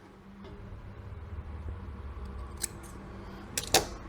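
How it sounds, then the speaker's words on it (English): Scissors cutting a piece of cord while a metal fishing lure is made from kitchen utensils: a couple of crisp snips near the end, close and alone over faint background rustle. "Cut a piece of cord."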